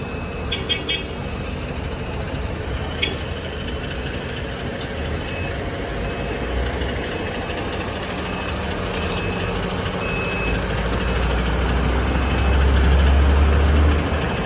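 A KSRTC Swift Volvo B11R sleeper bus, 14.5 metres long, reverses out of a bus stand. Its heavy diesel engine idles low and steady, with a few scattered high beeps, and the engine rumble swells toward the end.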